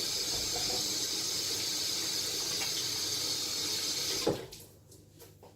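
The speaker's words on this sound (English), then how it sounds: "I wash my hands again." Running tap water pours steadily into a sink as hands are washed in a home kitchen, a continuous close hiss that cuts off abruptly near the end, followed by a quieter tail.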